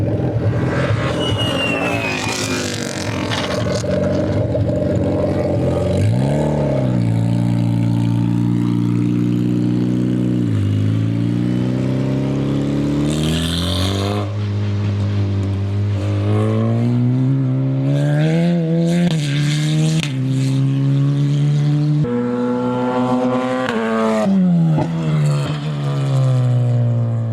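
An F4 race car engine fires up and revs hard, rising and falling repeatedly at close range throughout, with a brief spoken word near the start.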